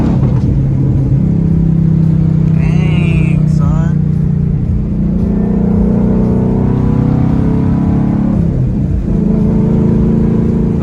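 A Ford Mustang race car engine rumbles loudly on a track, its pitch rising and falling with revs and shifts, while people talk over the sustained drone.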